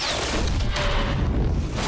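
Film special-effects explosion with a car being flipped, a loud, dense blast of booming rumble and crashing debris that fills the whole moment with no pause.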